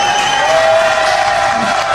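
An audience applauds and cheers at a Togolese gathering just before a reggae song is performed; dense clapping with crowd noise fills the whole stretch evenly and loudly, with a faint tone running underneath.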